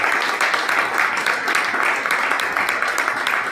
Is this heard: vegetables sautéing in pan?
no